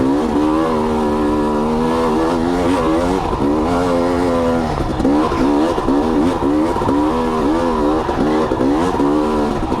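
A KTM 250 XC two-stroke dirt bike engine climbing a trail switchback, loud and close throughout, its buzzing revs rising and dipping steadily as the rider works the throttle, with no talk.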